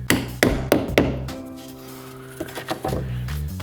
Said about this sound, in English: you're probably going to need to give it a little tap